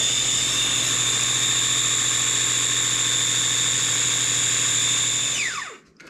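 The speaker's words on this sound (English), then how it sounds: "give it a zing. The Ninja Chopper" A Ninja Chopper food processor whirs steadily at high speed while mixing a bulk coffee mix, a loud constant motor whine with strong tonal hum that winds down sharply as the blades stop near the end.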